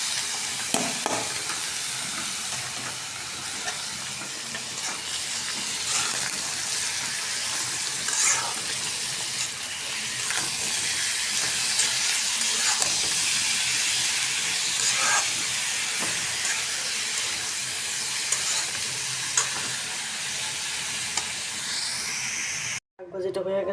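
A vegetable bhaji with ground shrimp fries in a pan, giving a steady loud sizzle and hiss with occasional stirring scrapes, and a voice talks over it intermittently.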